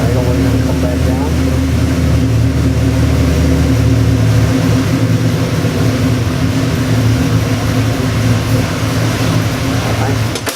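An engine fitted with Phi-Tech EFI fuel injection idles steadily and loudly at close range, a continuous low throbbing drone with no sudden changes.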